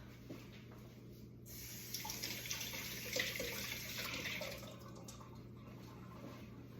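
Blueberries being rinsed under a running kitchen tap, a steady stream of water splashing into a sink that swells louder midway and then eases, heard alone at a fairly quiet level.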